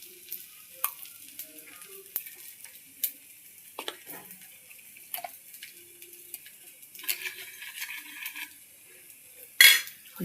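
A dosa frying in oil on a pan, a thin high sizzle throughout with intermittent clicks and scrapes of a spatula, one louder scrape near the end, no talking.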